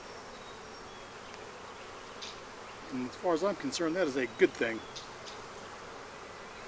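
Bees hum in a steady, faint drone around an open red Flow Hive while someone speaks briefly over the buzzing.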